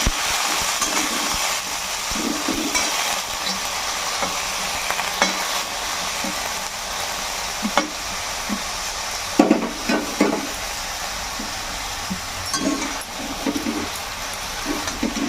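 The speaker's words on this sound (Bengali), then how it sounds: "আমি একবারে পালং শাকটা এর মধ্যে দিয়ে দিচ্ছি একবারই ভাজাও হয়ে যাবে একটু সেদ্ধও হয়ে যাবে" Spinach sizzles in a hot kadai under a continuous frying hiss, broken by repeated scraping and clattering stirs that grow busier midway, with no talking.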